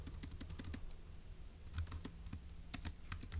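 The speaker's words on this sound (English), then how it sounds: "let's go ahead and type that up in our notes in section B." Notes are typed on a computer keyboard while solving a Turing Machine logic puzzle, with quick bursts of close, crisp key clicks separated by short pauses and no speech.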